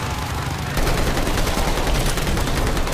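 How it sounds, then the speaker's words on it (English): Rapid gunfire from zombies in Call of Duty Vanguard, a dense continuous burst of shots that kicks in abruptly and stays loud over background noise. "why would they make a zombie guy shoot bullets in a shooting game?"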